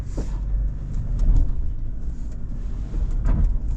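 Light scrubbing from the underbody of a 2025 Ford Ranger Stormtrak PHEV with lowered ride height, heard as brief scraping bursts rising over steady in-cabin road and engine rumble while driving.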